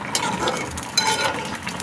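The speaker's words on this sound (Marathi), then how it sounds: "बघू शकता छानपैकी उकळ आलेले आहे" A brinjal and potato bhaji cooked Malvani style with dried shrimp bubbles in a pot, a close continuous bubbling and sizzling hiss with a few stirring clinks, steady and fairly loud over two seconds.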